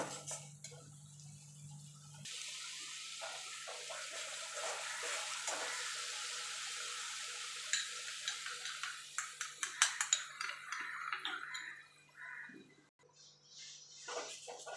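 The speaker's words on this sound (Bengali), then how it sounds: "মশলাটা থেকে তেল ছাড়া পর্যন্ত কষিয়ে নেব।" Homemade biryani masala frying in hot oil in a pan, a steady soft sizzle with scattered crackles and a few stirring scrapes, close and fairly quiet.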